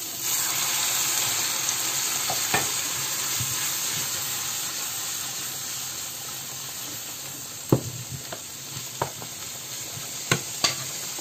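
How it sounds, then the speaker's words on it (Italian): A pan sizzles and steams steadily after a ladle of water goes in, while a vegetarian Christmas dish cooks. The hiss holds constant, with a few sharp clinks and stirring knocks toward the end. "E ci metto un mestolo di acqua."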